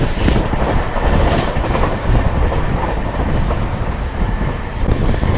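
Pune to Sainagar Shirdi passenger train running at high speed, a loud continuous roar of wheels on track with rattling carriage noise and faint clickety-clack, heard from inside without talk.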